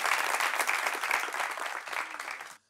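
A room full of people applauding, dense steady clapping that carries on for a couple of seconds before cutting off abruptly.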